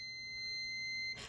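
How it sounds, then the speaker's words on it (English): A continuity tester gives one steady high-pitched electronic beep while checking a thermal fuse, holding for about a second before it cuts off with a brief rustle. "It beeps."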